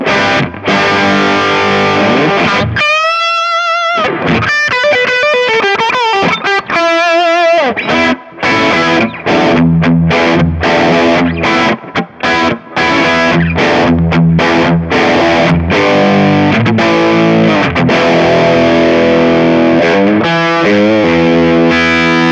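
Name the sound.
green screen distortion pedal before booster in Kemper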